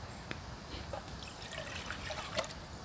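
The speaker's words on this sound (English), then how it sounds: "I'm gonna get my coffee water on, and then my oatmeal water." Water trickles and splashes into a pot for coffee and oatmeal at a truck campsite, a soft steady pour with a few small drips, no talking.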